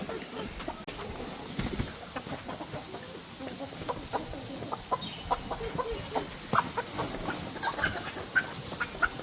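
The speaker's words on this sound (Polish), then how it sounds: "piękne są te biało-czarne kurki" Black-and-white hens cluck in short soft bursts on a farm, several birds nearby pecking and murmuring, with scattered louder calls against a quiet outdoor background.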